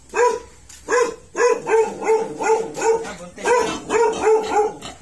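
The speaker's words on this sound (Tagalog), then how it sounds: "Daming aso." Several dogs bark in repeated bursts, about eight sharp barks over five seconds, close by and fairly loud with short gaps between them.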